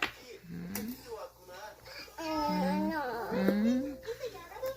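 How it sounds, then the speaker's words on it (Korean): A dog whimpering and giving short whining yelps indoors at night, faint and intermittent, with family members talking nearby. "누누가 왜 짖는가 가보고 왔어?"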